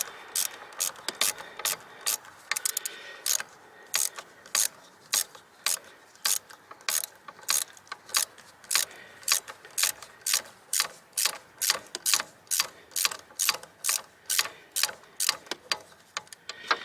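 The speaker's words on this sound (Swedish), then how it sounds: "jag tror jag skruvar av den där helt och hållet" A ratchet wrench clicks in steady, rapid strokes while a bolt is loosened on a car's ABS pump during an outdoor repair in snowy weather; the sharp, close ratcheting repeats evenly throughout with no talk.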